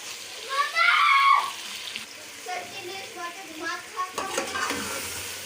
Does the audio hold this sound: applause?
no